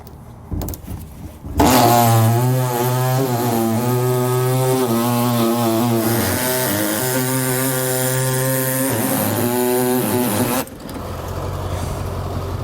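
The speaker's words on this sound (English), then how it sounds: "So I'm just going to use an air saw to do this." An air-powered reciprocating saw cuts through a steel base rail for a Demco Premier 5th wheel trailer hitch, a loud, steady buzzing drone with a slight shifting pitch, starting abruptly and stopping after about nine seconds.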